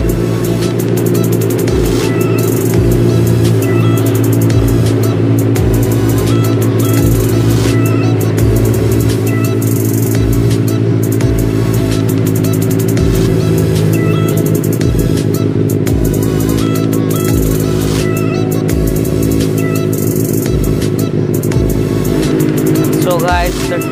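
A Benelli 600i motorcycle engine runs steadily and loudly up close, a continuous deep rumble with a rhythmic pulse throughout.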